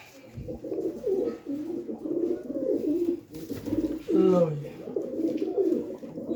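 A black-spotted pigeon and its mate coo in low, repeated throaty calls close by in a Punjabi loft, with someone talking at moments.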